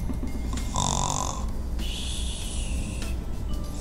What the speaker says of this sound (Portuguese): Ainda mais com esse ronco da Peppa. Ela ronca muito alto.